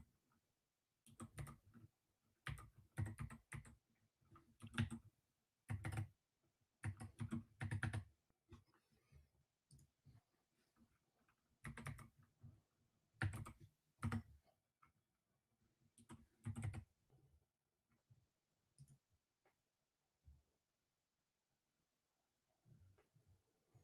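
Card details go in on a computer keyboard in quick bursts of close, crisp key clicks, separated by short pauses and a near-silent stretch near the end.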